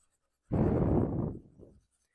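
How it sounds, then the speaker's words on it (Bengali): Writing on a board is erased in one continuous rubbing swipe lasting about a second, close and fairly loud, followed by a shorter, softer rub and then quiet. "আমি নিচের গুলা মুছে দিচ্ছি"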